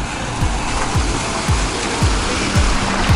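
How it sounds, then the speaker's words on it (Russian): Steady rushing surf of small waves on Jumeirah Beach, Dubai, with broadband noise and soft low whooshes rolling in roughly every half second, close and fairly loud, no voices. "Небольшая волна вот накатывает."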